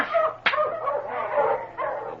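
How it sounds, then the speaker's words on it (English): Sled dogs in a blizzard in the Yukon bark, yip and whimper in a short restless burst, close and fairly loud, in an old radio drama with no talk over it. "Smokey, get those dogs moving, you hear me?"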